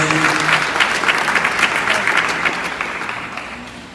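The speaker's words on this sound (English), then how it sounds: "Please put your hands together for her one more time." Loud, sustained applause from a large audience, steady clapping that fades slightly toward the end.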